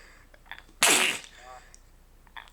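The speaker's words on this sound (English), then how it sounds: "I feel like I'm gonna sneeze here" A single sharp, loud sneeze bursts out during a casual podcast conversation. Soft talk and small vocal sounds come before it, and a brief murmur follows.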